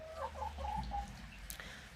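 Black hens in a poultry yard, several soft clucks in a short run followed by a brief sharper call, fairly close and alone against a quiet background.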